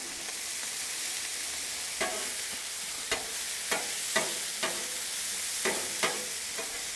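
Vegetables frying on a Blackstone griddle over low heat, a steady soft sizzle close by, punctuated by several sharp scraping and tapping strokes of a spatula as the veggies are stirred.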